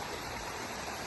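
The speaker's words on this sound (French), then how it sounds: "Regardez, un petit ruisseau" A small mountain stream runs near the Col de la Fraie pass, a soft, steady rushing of water heard faintly and evenly for a brief moment, with no talking.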